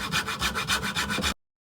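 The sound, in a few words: sawing wood with a mini saw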